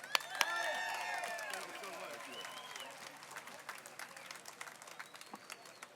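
An outdoor crowd at a jobs march in Washington, DC applauds, with a few whoops and voices rising over the clapping at first. The applause then thins into scattered claps as it fades.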